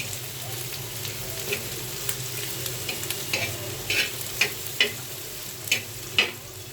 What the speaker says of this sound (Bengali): এবার আমি পেঁয়াজটা ভেজে নিচ্ছি সরিষার তেলের উপরে।